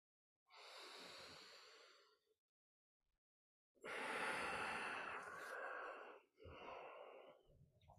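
Slow, deep breaths during a guided meditation, a long inhale or exhale lasting about two seconds, then a pause, then longer breathy in-and-out breaths that sound near and airy.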